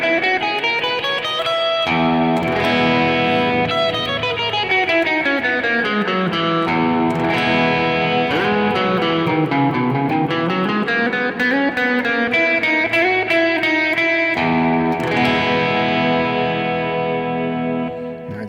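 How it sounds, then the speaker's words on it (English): An E Lydian mode scale played on electric guitar through effects with distortion and chorus, with notes running up and down in a continuous loud melodic line and no talking. "All right, that's the sound of Lydian."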